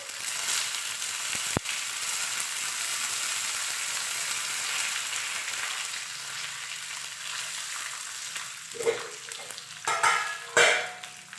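Curry leaves dropped into hot oil in a pan, a dense steady sizzle that rises with sharp crackles and pan knocks near the end, no talking.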